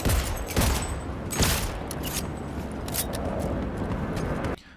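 Sustained gunfire in the Cyberpunk 2077 video game, with dense bursts of shots and a few louder cracks over a continuous rumble, steady and close, cutting off abruptly near the end.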